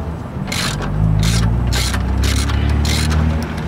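A ratchet wrench loosens a bolt on an Evo front power brace, giving several short, bright clicking bursts in an uneven rhythm. The bursts are close and loud over a steady low mechanical hum.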